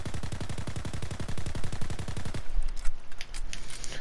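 A Nambu Type 2 submachine gun fires in Call of Duty WWII, a rapid, even burst of about two dozen loud shots lasting over two seconds, followed by scattered tail noise and clicks.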